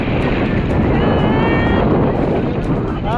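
Strong wind roars and buffets the microphone in a steady loud rush during a storm at sea, with a faint engine-like drone and a voice briefly underneath.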